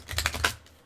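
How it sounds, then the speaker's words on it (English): Tarot cards given a dealer shuffle, heard as a few quick close papery snaps and riffles in under a second, alone with no talk. "We're doing a nice clear dealer shuffle."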